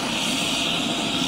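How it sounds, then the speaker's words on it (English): Steady roar of an airliner's engines on arrival at Bergen after a flight from London, a broad continuous rumble and whine filling the space, no voices. "Flight number SK516 from London to Bergen has now landed."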